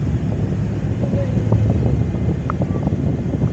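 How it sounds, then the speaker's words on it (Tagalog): A small boat's engine idles quietly at low rpm, a steady low rumble with wind buffeting the microphone throughout. "tahimik yung makina nito eh ito maganda rito eh parang hindi siya umaandar"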